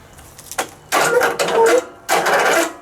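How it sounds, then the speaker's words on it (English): Riding mower starter motor cranking slowly on a weak electrical connection, three loud labored bursts of grinding whir separated by short pauses, close up. "see how slow the motor's turning?"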